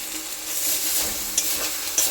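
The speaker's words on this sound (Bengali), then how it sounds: "সমস্ত মশলা আস্তে আস্তে ভাজা হোক" Ginger paste and spices fry in a pan as they are stirred, with a close, steady sizzle broken by a couple of scraping clicks from the utensil.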